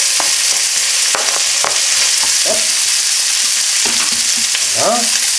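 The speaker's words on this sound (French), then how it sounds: "on va faire revenir ça une bonne petite minute" Sliced bell pepper and onion sautéing in a hot pan for Thai pad woon sen stir-fried glass noodles, with a steady close sizzle and several sharp utensil scrapes and clacks against the pan.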